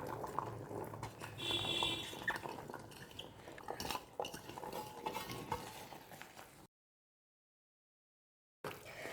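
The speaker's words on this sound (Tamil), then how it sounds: "நல்லா கிளறி விடுங்க." A spoon stirs chickpea masala in a pan, with scraping and clattering, a soft sizzle and bubbling, steady and close, ending in a short silence.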